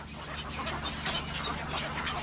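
A bird clinging to something near water, with gators nearby, gives quacking, squawking calls that repeat in short bursts over a constant background hiss, fairly faint and with no talk.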